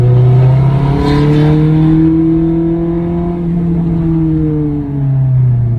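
A Ferrari 430 engine drives through its gears in West Hollywood, a loud, close, harmonic drone that rises and falls in pitch as it revs, with no talking.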